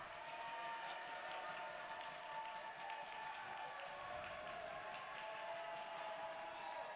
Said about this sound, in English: the USN-BA-Nashville Christian players are greeted with a deserved round of applause